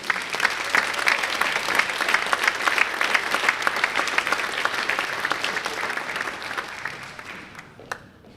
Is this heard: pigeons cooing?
no